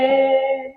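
A single sustained sung note through a Digitek DWM 115 wireless microphone's reverb mode, drenched in echoing reverb, lingering briefly and fading out smoothly.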